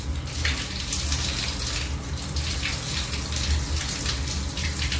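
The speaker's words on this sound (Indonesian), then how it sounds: "untuk mematikan keran air ini, kita menggunakan bagian tangan yang tidak kita cuci" A water tap runs during handwashing, a loud, steady gushing stream splashing into a sink up close, continuous throughout with no pauses.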